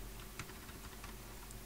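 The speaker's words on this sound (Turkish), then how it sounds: "Hepsini seçtikten sonra klavye üzerinden CTRL Enter diyoruz." Computer keyboard keys pressed for a Ctrl+Enter shortcut, a few faint light clicks over a steady hum of room noise, no talk.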